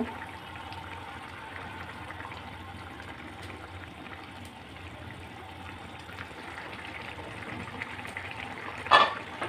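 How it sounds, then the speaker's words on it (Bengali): Shing fish curry broth with potatoes and pointed gourd bubbling at a steady boil in a pot, a low continuous simmering hiss heard alone, with a brief sharp clack near the end. "ভালো করে বলক চলে আসার পরেই কিন্তু মাছটা দিতে হবে।"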